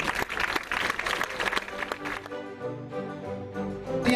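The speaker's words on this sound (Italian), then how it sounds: "Grazie, un bel applauso!" An audience claps at the Miss Riviera del Brenta beauty pageant in Dolo, Venice, a dense burst of applause that thins out while music and a faint voice carry on beneath it.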